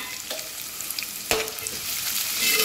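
Finely chopped onions sizzle in hot oil for biryani, a steady bright frying hiss with occasional scrape-and-stir strokes of a spoon through the pan, close and moderately loud with no voices.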